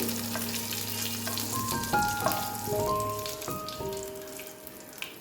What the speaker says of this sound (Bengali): এই পাঁচফোড়নটা দিয়ে দিচ্ছি একটু হালকা নাড়াচাড়া দিয়ে